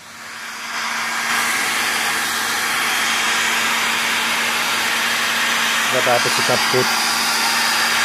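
An air blower roars steadily and loudly while drying repainted Yamaha Mio i 125 motorcycle fairings, a constant rushing whoosh with a faint motor hum, and a voice speaks briefly near the end.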